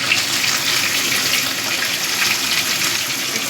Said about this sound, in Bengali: এবার আলু গাঁটি কচুটাকে একটু ভাজা ভাজা করব।